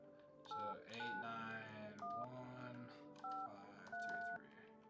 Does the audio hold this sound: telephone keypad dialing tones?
yes